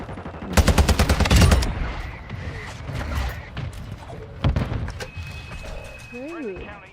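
Video game combat with a mortar strike and gunfire: a rapid burst of automatic fire early on, then scattered shots and a heavy thump. A synthetic voice and game alerts sit in the mix.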